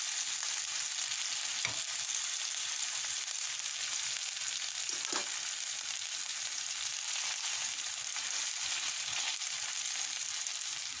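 Salmon steak fries in a pan with a steady, dense sizzle that stays loud and even throughout. A couple of faint clicks and stirring knocks break through it, and no one speaks.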